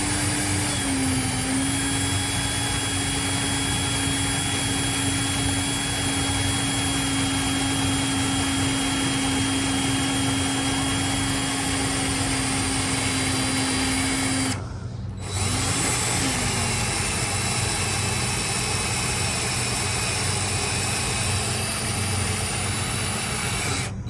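A power drill drilling aluminum on a Chevy 2500 whines loudly and steadily for a long stretch, cuts out briefly, then spins back up and keeps drilling.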